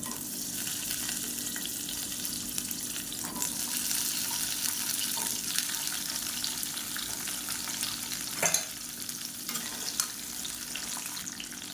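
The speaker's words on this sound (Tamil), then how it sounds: "இந்த முருங்கைக்காய் எண்ணெயில் போட்டு வதக்கிக்கலாம்" Small pieces of cut drumstick sauté in hot oil, giving a soft, steady sizzle close by, with faint stirring and a brief louder scrape partway through.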